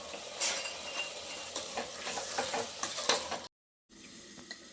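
Tomatoes fry and sizzle in a pan for tomato rice bath, with repeated scraping and clinking stirs of a utensil against the pan, close and fairly quiet, briefly cutting to silence before resuming.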